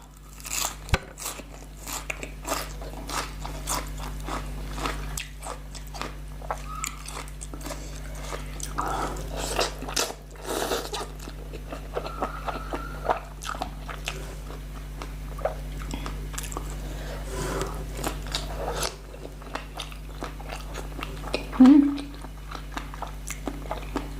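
Crunchy pork rinds are bitten and chewed close up, giving repeated sharp crackling crunches in an irregular rhythm over a low steady hum, with no speech.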